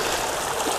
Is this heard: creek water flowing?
yes